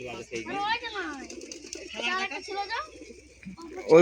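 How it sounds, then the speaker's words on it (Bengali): Several kinds of pigeons coo in a loft, soft rolling calls close by that are partly covered by a person talking over them. "তো বিভিন্ন রকমের পায়রা আছে এখানে"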